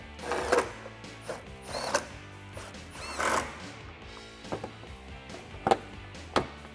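A hand ratchet bolts aftermarket composite fender clips onto a 2015-2017 Mustang, clicking and clacking in short irregular bursts with a few sharper knocks close by.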